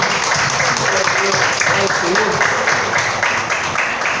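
A church congregation applauds during a service, a continuous loud wash of clapping with voices mixed in underneath, steady throughout.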